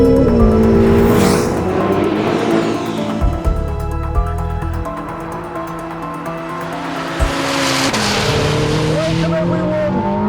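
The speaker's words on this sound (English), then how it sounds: "Welcome everyone to the Ferrari SF90 XX." A Ferrari SF90 XX, a high-performance road car, drives hard with loud engine roar and repeated tire squeals over about ten seconds, the revs rising and falling in waves.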